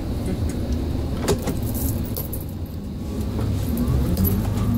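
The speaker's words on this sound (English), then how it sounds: "We're going to do a U-turn here because, you know, driving this little Volkswagen-sized vehicle, we can do those sort of things." An RV about the size of a Volkswagen turns around on a road, its engine and tyre rumble steady and close throughout, with a faint jingle of loose items rattling inside.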